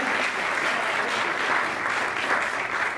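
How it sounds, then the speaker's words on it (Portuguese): Audience applause at a book launch evening in Diadema, a dense, sustained clapping from a crowd that holds steady for the full few seconds without talk. "com esse orgulho, palmas, aplausos"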